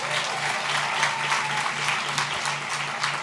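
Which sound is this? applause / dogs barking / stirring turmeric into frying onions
applause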